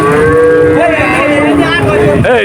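Cattle moo loudly and up close at a busy rural cow market, with one long bellowing call followed by further lowing, and faint crowd murmur behind.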